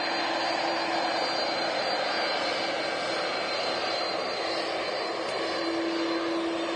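An Airbus A330-300 airliner at Manchester Airport gives a loud, continuous jet engine roar, steady throughout as it passes near, with no talking.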